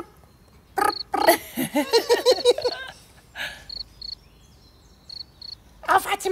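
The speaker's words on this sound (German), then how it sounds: "Die Grillen zum Beispiel? Ja, die zirpen." Crickets chirp in short, high, evenly spaced bursts, some close together in pairs, heard between and under brief stretches of talking.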